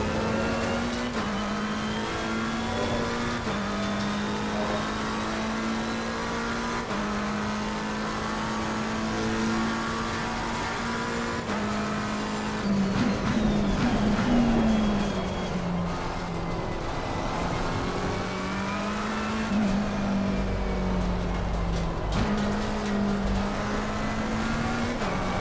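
A race car laps Silverstone in a racing video game on a warm-up run, its engine droning and revving steadily through gear changes and corners, loud and continuous for the whole stretch.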